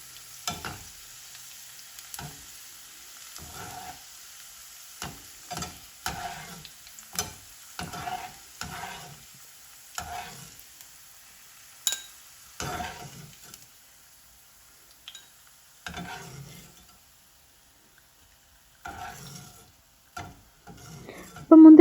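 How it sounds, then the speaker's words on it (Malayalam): Raisins fry in oil in a pan, heard as sparse, quiet scrapes and taps of stirring with long near-silent gaps and only a faint sizzle between. "ജസ്റ്റ് ഉണക്കമുന്തിരി മാത്രം ഒന്ന് വറുത്തിട്ട് മാറ്റാം"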